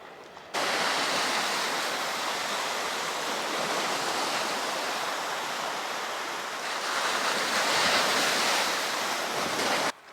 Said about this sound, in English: All these crashing waves from the boats, getting hot, fish got lockjaw.